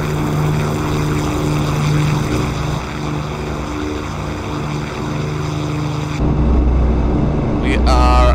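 Twin engines of a de Havilland Mosquito FB VI in DCS drone with a loud, steady propeller hum that shifts pitch as they are adjusted, with a voice talking over them.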